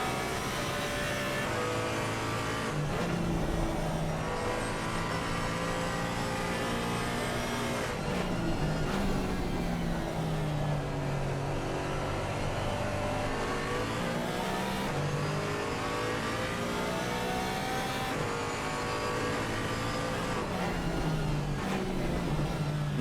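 Porsche 718 GT4 race cars in a sim racing game at Oulton Park roar continuously, engines revving up and down through gear changes as they race closely together, loud and steady throughout with no talk.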